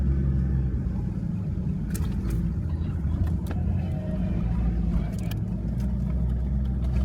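A car rattles and rumbles steadily over a corrugated sand track on Fraser Island, heard from inside as a continuous loud low roar with scattered bumps and knocks.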